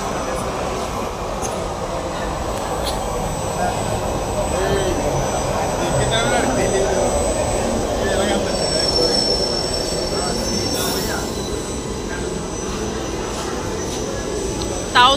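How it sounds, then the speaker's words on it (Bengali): Metro train pulling into a station platform, a loud continuous rumble of rolling wheels with high squealing from the rails throughout, sustained at steady level with crowd chatter underneath. "এই যে এখন মেট্রো ঢুকবে"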